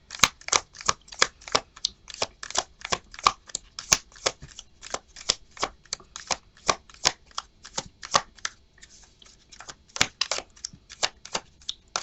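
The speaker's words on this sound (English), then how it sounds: "We're going to give this one more shuffle and see what Spirit has for" A tarot deck is riffled and shuffled over and over, producing a rapid, evenly spaced string of crisp card flicks, close by and fairly quiet with no talking.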